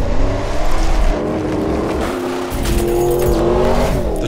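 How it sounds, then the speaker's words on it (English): Nissan VK50 VE V8 in a 390-horsepower rally truck with a six-speed sequential gearbox, revving hard and close at a rally and Dakar dune training ground, the engine note climbing and holding through steady loud drones. "The truck is a Nissan VK50 VE, which has a power output of 390 brake horsepower"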